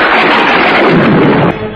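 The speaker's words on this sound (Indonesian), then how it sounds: "Petir yang kemudian meledak" Thunder clap in a dramatized Indonesian audio drama, a loud broadband rumbling crack filling the whole clip before easing off slightly near the end, with no voices.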